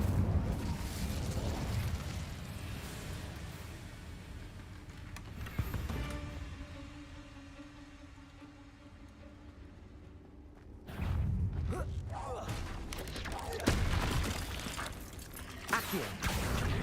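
The Incendio fire spell cast in Hogwarts Legacy, heard as loud, roaring fiery bursts and booms with crackling impacts, separated by quieter stretches of game ambience.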